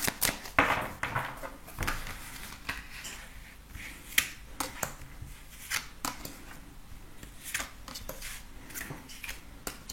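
Tarot cards are shuffled and drawn by hand, a run of close, crisp riffling snaps and slaps at irregular intervals over a quiet room, with no talk.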